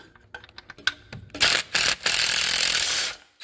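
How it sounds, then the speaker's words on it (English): A small cordless impact wrench on a Dodge Ram removes two 10 mm heat shield bolts, starting with a few clicks, then giving several loud, close, rattling bursts that end in a long steady hammering run. "I'm just going to get in there with my little cordless impact"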